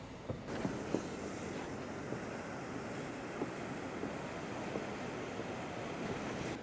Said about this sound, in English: these are little smaller waves than probably what you guys see on YouTube normally, those big monster waves